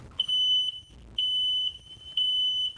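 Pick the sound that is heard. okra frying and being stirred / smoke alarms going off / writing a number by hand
smoke alarms going off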